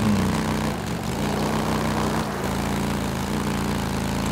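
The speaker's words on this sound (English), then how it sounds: "One of our helos is heading towards your position now." A helicopter drawing closer in the video game Days Gone, a steady low rotor and engine drone holding at moderate loudness throughout, with a short dip partway through.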